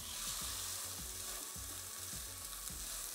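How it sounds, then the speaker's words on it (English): A burger patty sears in a hot pan, a steady loud sizzle and frying hiss running throughout with soft clunks of the pan, no talking. "I'm going to add this patty straight into the pan."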